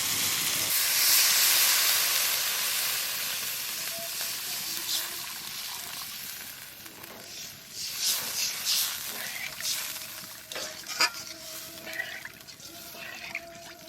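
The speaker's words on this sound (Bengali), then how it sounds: "মশলা কষানো হয়ে গেছে, আমি জল দিয়ে দেবো।" Water added to spices frying in a pan while cooking salmon curry, giving a broad hissing sizzle that swells early and then settles into bubbling with scattered crackles, close and fairly loud, with no talk over it.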